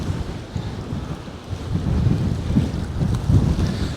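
Wind blows steadily across a harbour during fishing, a rough, gusting rush that buffets the microphone and swells louder in the second half, with no voices.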